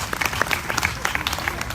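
An audience claps at a county fair queen coronation, producing a dense, steady wash of applause that lasts throughout, with voices faintly audible over it.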